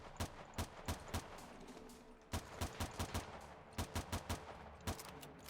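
Sharp gunshots in the side-scrolling game Zombotron Re-Boot, fired in quick bursts of three to five with short pauses, crisp and fairly close over quiet background.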